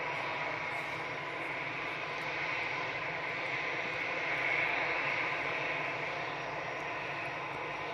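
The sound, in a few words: TUI Boeing 737 departing to Palma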